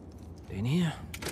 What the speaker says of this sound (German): Probierst du die Schlüssel?